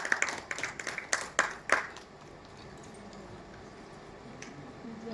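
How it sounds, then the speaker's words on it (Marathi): An audience at a Marathi film trailer launch claps in a short, uneven burst of sharp hand claps that thins out after about two seconds, leaving quiet room tone. "टाळ्यांचा आवाज जोरदार येऊ दे."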